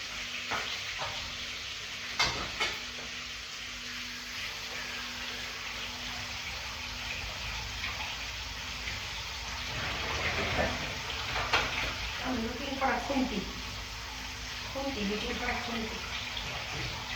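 Pieces of rohu fish frying in a pan in a home kitchen: a steady low sizzle runs throughout, with occasional clinks and voices talking faintly in the background toward the end.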